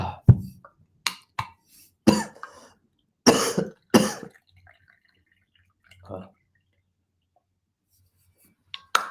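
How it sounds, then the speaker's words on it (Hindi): Several sharp coughs from a person during a classroom biology lecture, bursting in quick irregular clusters close to the mic, followed by quieter throat sounds and a long pause; some brief speech is mixed in. "एक बार खांसते हैं ना, जान हाथ में आ जाता है सारा।"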